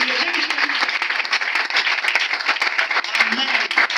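A church congregation at a Sunday service applauds steadily, dense and sustained clapping filling the room throughout, with voices mixed in beneath it.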